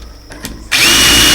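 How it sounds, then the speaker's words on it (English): A power drill drilling a hole using a jig whirs up to full speed and keeps spinning loudly and steadily, after a few quieter taps and clicks. "Then I'm going to drill this hole."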